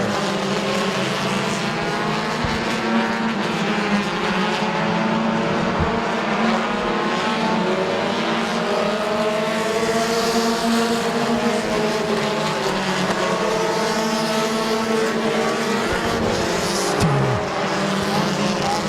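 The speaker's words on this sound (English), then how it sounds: "And Cougar takes over the number 1 spot in the number 58 car" Compact race cars circling Midvale Speedway in a continuous loud, layered engine roar, with several motors rising and falling together throughout.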